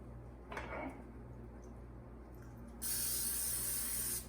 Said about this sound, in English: You're going to spray it with Pam